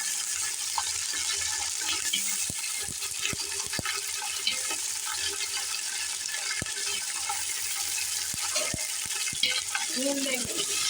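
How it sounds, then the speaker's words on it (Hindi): Four spoonfuls of ginger-garlic paste fry in a pan over browned onions for chana biryani, giving a steady, loud sizzling hiss broken by sharp spoon clicks and scrapes throughout, with a faint voice now and then. "अब हम ये 4 चम्मच अदरक लहसुन के डाल देंगे।"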